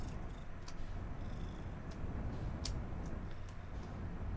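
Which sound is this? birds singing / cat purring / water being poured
cat purring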